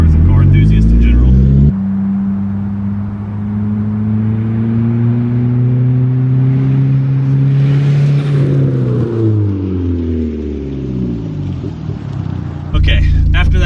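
A Dodge Neon SRT-4's loud engine roars steadily, then drops in pitch as the car speeds closely past and recedes.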